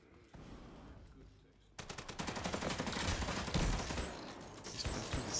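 Rapid automatic gunfire bursts in the online shooter Off the Grid, starting after a quieter stretch and continuing as dense, loud rattling volleys over a busy game soundscape.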